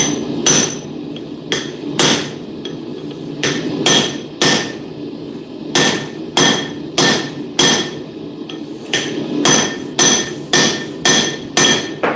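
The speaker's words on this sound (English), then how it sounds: "Now we get the rivet set in." Steel hammer striking a rivet set on a forge bench, ringing metallic blows in irregular bursts of two to four, loud and close with short pauses between groups.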